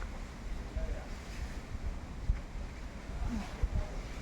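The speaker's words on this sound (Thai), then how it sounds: "ลมแรงมาก" Strong wind gusts buffet the microphone outdoors near a jackfruit tree, a continuous low rumbling roar with heavier bursts throughout.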